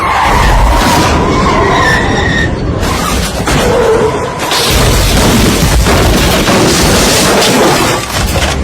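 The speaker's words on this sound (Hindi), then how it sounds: "अचानक पता नहीं कहां से एक ट्रक डिसबैलेंस होकर आई और" Dramatic sound effect of an out-of-control truck skidding and crashing into a car at a house gate, a loud sustained tire screech followed by a booming impact and shattering debris that fills the whole stretch.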